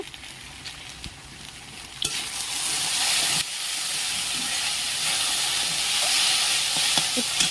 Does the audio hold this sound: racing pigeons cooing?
no